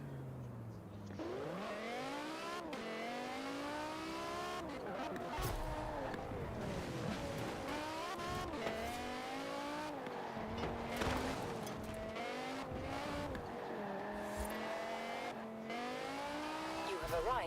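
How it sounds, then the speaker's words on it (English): A racing car engine in the video game Forza Horizon 4 revs and whines continuously, rising and falling in pitch through gear shifts, with faint tire squeals and some speech underneath. "And you guys hear the car all right?"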